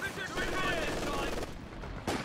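Machine gun fire from a Company of Heroes 2 multiplayer battle, a dense rattling burst of shots running nearly continuously at close range, mixed with other game sounds and a voice talking over it.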